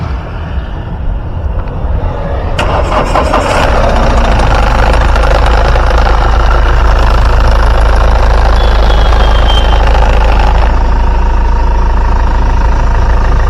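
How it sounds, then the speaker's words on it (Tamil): A low-budget used car's engine starts and settles into a loud, steady idle close by, with a deep continuous rumble and a slight knocking rattle, briefly overlaid by a faint beeping tone; no one talks. "வாங்க வண்டியோட இன்ஜின் சவுண்ட் எப்படி இருக்கு அப்படின்றத கேட்போம்."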